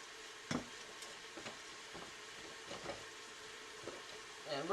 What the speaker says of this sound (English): Now I'm going to cook this down till at least the shallots are caramelized.